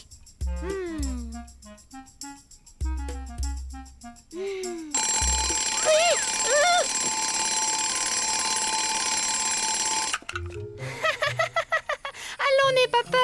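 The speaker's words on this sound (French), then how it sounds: "C'est juste un réveil." An animated cartoon scene with a loud, insistent alarm clock ringing in long sustained bursts, mixed with musical effects and cartoon voices.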